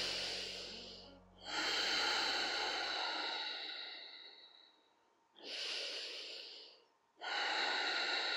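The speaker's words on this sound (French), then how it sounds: "Respire profondément et fort." Deep, forceful breathing during chair yoga: three long, loud, hissing breaths, each with a short pause between them, close and without talk.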